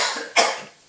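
A man's cough, a single sharp burst in the middle of a short clip, close and fairly loud with a rough, breathy tail, following faint background noise.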